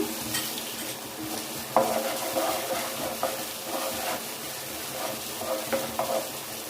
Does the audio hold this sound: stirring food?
yes